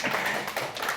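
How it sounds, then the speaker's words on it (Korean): Lecture audience at a talk on Korea's founding day claps briefly at the lecturer's call, a short close burst of mixed hand claps filling the whole second. "이번에도 박수 한번 쳐주죠"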